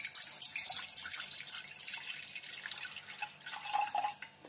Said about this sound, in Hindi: पतीली में सबसे पहले हम दूध डालेंगे।